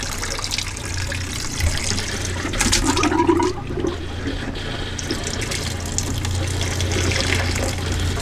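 A pop-up camper's water pump pushes antifreeze out through the water lines, giving a steady rushing, gurgling flow of liquid with a brief surge partway through, close and continuous.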